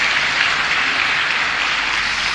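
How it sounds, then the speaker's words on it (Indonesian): An audience at an Indonesian religious gathering applauds, a dense steady wash of many hands clapping at once, loud and even throughout. "Untuk itu kita ucapkan terima kasih dan kita beri tepuk tangan"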